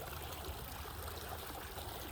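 Rainwater runs and trickles steadily outdoors near a backyard creek, a continuous close wash of flowing water with no other sounds.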